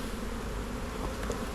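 A swarm of honey bees hums in a steady, dense buzz close by, with no voices and only faint rustling above the drone.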